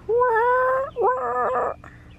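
A young rooster attempts a crow, a strained, wavering call that breaks off into rough squawks, close by and fairly loud.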